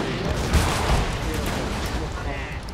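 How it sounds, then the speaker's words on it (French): Cannon and artillery fire in a Shogun 2 Total War multiplayer battle, a dense rumbling barrage of booms with a few sharper blasts, steady and loud throughout. "Mes canons qui sont en train d'affronter ces canons et je prends très cher."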